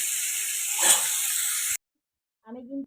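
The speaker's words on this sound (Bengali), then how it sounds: "এবারে আলু ভাজা" Potatoes frying in a pan for a home-style khichuri meal give off a steady, close sizzling hiss that stops abruptly, followed after a short silence by a brief voice.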